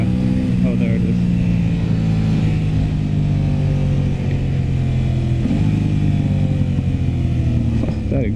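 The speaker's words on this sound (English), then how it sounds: "Oh, that exhaust" Aprilia RS 660 sport motorcycle exhaust, heard from the rider's seat: a loud, continuous engine drone with rising and falling revs, and a rider's voice talking over it at times.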